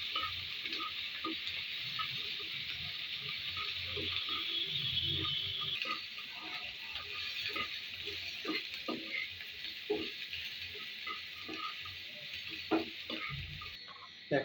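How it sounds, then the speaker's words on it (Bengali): Onion and garlic fry in oil in a pan, giving a continuous moderate sizzle with scattered crackles and stirring clicks, close up and free of voices. "পেঁয়াজ রসুন ভেজে নিচ্ছি।"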